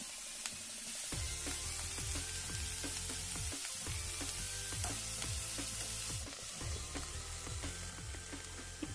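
Sliced bitter gourd and onions sizzle steadily in a pan for a curry, a constant hiss of frying beneath prominent rhythmic background music, with no voices.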